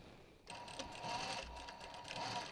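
A sewing machine runs in steady bursts, stitching down a cotton strap folded over twice, with a close mechanical whir and fast needle chatter that pauses briefly between runs.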